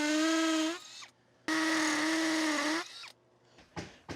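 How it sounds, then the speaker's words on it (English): A power drill boring a 3/8 inch hole into concrete for a wedge anchor: two loud, sustained whining bursts with a winding-down tail between them, then a few short quieter spurts. "I have to drill a 3/8 inch hole"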